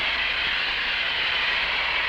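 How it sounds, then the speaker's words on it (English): A blast of hot steam hisses steadily against Mylar plastic film, a loud, even rush of noise lasting about two seconds without a break. "let's keep a blast of hot steam on it"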